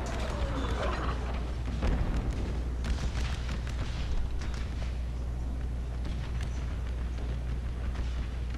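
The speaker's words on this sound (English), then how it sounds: "listen to the crack of them guns" Artillery cannon fire in an American Civil War game mod, heavy booming reports and sharp cracks at moderate loudness over a steady low rumble, spread irregularly across the clip.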